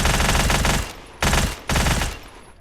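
Rapid automatic fire from the Deluge gun in Badlanders comes in three loud, dense bursts separated by short pauses, close and sharp, with no talking.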